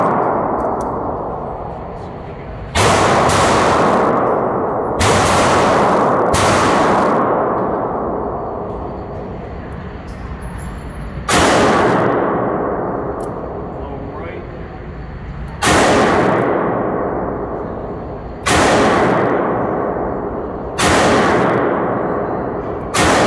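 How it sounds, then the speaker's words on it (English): Six loud sharp double-action revolver shots from a Dan Wesson crack at an outdoor range, spaced a few seconds apart, each with a long echoing decay. "we're going to fire 6 shots here at 7 yards, double action, and see where she's hitting"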